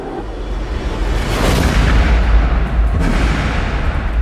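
A bullet fired by a homemade spring-loaded primer in a test rig gives a loud, close burst. It is a sustained roar that swells and then fades over a few seconds, no voices.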